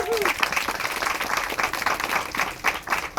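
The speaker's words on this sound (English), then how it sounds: "give the Chief Judge a round of applause for that" Crowd applause at an outdoor walk against domestic violence event, given for the Chief Judge, comes as a short burst of scattered clapping, moderately loud and a little diffuse, with voices faintly mixed in.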